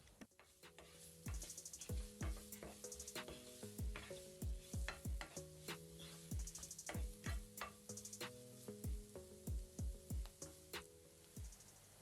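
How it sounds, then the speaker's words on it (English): Finely chopped onion frying in a pan for potato kachori filling, a soft continuous sizzle under repeated rhythmic scrapes and taps of a stirring spoon against the pan, close and steady. "We need onion to be half cooked, so fry it for a minute."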